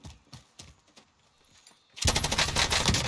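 Sudden burst of rapid automatic fire from an MK9 Bruen light machine gun in the Warzone video game, loud and sustained after a quieter stretch of scattered clicks and distant shots.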